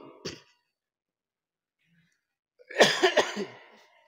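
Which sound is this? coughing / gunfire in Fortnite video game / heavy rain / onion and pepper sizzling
coughing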